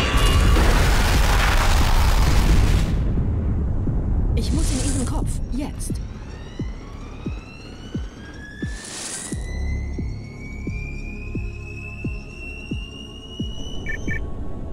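A bomb explodes in Halo 2, a heavy, loud roar of noise that fades into booming rumbles and rising whines, with voices talking over the aftermath.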